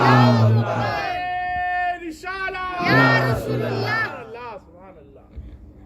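A crowd at a nikah gathering in Jhalore, Rajasthan roars a religious slogan in unison, loud and close, in a few surging chanted bursts that rise and fall before fading into lower murmuring.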